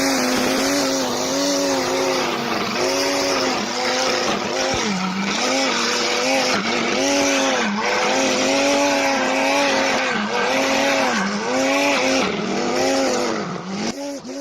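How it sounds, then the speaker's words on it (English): A homemade electric grass cutter, built as a DIY lawn mower trimmer, runs continuously with a loud whining motor hum that rises and falls in regular waves as it works. "Now let's see how this crazy grass cutter machine works."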